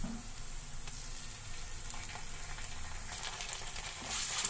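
Onions, chillies, curry leaves and ginger paste fry in a pan with a quiet, steady hiss and faint crackle that grows slightly louder near the end.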